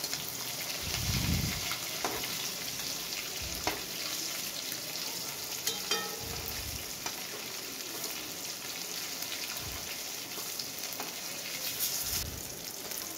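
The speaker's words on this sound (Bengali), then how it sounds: "এইভাবে সব মাছগুলো ভেজে নিলাম একটা একটা করে।" Fish pieces fry in hot oil with a steady crackling sizzle, interrupted by several low thumps and scraping stirs as pieces are turned, close and continuous without speech.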